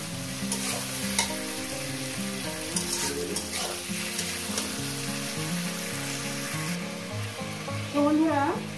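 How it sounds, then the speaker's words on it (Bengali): Chicken mince and mutton fat fry and are stirred in a pan with a dense, crackling sizzle and occasional scraping, heard close and steady under soft background music. "এটাকেও আমি একটু ভেজে নেব মিনিট 2 ধরে, 2-3 মিনিট ধরে ভেজে নেবো এটা।"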